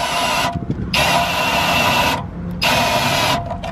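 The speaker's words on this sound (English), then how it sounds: "It's beautiful countersinking." A power drill countersinks a hole in metal during work on a car, whining loudly in three sustained bursts separated by brief pauses, close to the listener.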